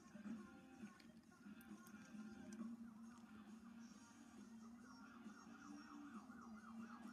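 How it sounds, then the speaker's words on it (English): Police sirens wail in a Grand Theft Auto chase, rising and falling steadily through the clip over a constant car engine hum, with the siren fairly distant but clear. "Oh my gosh, I can actually hear the sirens."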